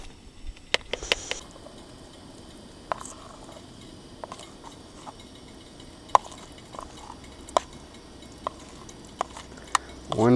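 Bilberry pancake batter fries in a buttered pan, a soft steady sizzle broken by scattered sharp clicks and taps of a utensil, close by with no talk.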